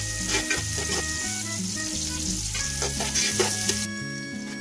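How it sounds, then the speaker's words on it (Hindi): Chopped medium onion frying in hot oil for chicken pulao gives a steady, close sizzle that crackles throughout, with faint tonal sounds beneath and no talk. "प्याज को उतनी देर तक ऑयल के अंदर फ्राई करेंगे जितनी देर तक ये ब्राउन ना हो जाए"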